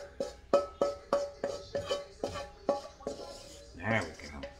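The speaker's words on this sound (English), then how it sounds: "I'm going to scrape the rest of it" A utensil scrapes leftover onions from a skillet in about a dozen quick metallic strokes in a steady rhythm, close and fairly quiet, ending with a brief clatter and no talking.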